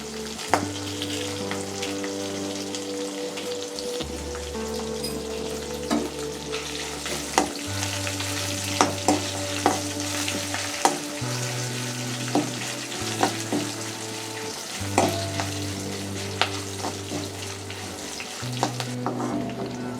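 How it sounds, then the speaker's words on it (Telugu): Green chillies and dried red chillies frying in a pan, a steady close sizzle over low pan hum with repeated sharp clinks and scrapes of stirring, no talk. "పచ్చిమిర్చి వేసి వేయించుకోవాలి. ఎండుమిరపకాయలు కూడా వేసుకోవాలి."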